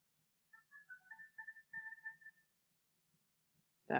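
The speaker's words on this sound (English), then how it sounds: "That was the oboe playing that bugle call." An oboe plays a bugle call in an orchestral piece, a series of short, clear melodic notes in a quick rising and repeating pattern, moderately soft and alone, followed by a sudden louder orchestral entry at the end.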